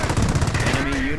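Machine-gun fire in the World War II strategy game Company of Heroes, a steady rapid crackle of bursts running under game music and effects with voices talking over it.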